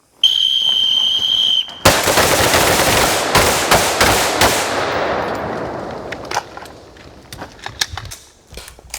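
Live-fire shooting drill with five shots to the head box on a target, a rapid burst of sharp, loud gunshots at close range, then scattered single shots and clicks as the firing tapers off.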